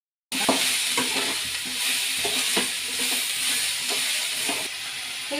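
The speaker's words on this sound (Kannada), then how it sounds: "ಈಗ ಮಿಕ್ಸ್ ಮಾಡೋಣ." Cauliflower curry sizzles in a pan while it is stirred after salt is added, with a steady hiss under repeated scraping strokes of the spoon, close and moderately loud.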